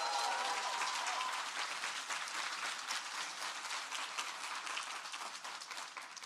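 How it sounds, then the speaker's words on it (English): Applause from a conference audience at a health ideas festival's closing session, a full, sustained round of clapping that stays fairly even and slowly softens over six seconds. "she deserves her own round of applause."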